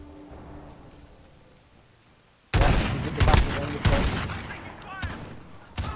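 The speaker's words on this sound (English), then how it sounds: "I like these shotguns." Shotguns fired in a multiplayer video game gunfight: quiet ambience, then a sudden loud onset of booming blasts and rattling gunfire, with several heavy shots over about three seconds.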